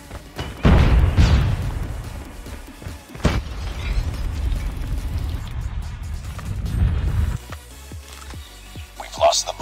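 A flashbang grenade goes off in a Call of Duty Mobile match, a loud broadband burst early on followed by another sharp bang, with heavy rumbling game noise and voice chatter continuing afterward.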